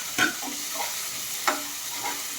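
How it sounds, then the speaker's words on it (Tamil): Onion sautéing in a pan with curry leaves and green chili gives a soft, steady sizzle, with a sharp spatula scrape near the start and another midway, no voices. "ஆனியன் போட்டு வதக்கிறேன்"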